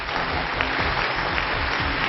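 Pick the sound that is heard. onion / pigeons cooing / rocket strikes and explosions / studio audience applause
studio audience applause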